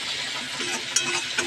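Tomatoes and green peas fry in a wok, a soft steady sizzle with light scraping stirs and a couple of faint metallic clinks.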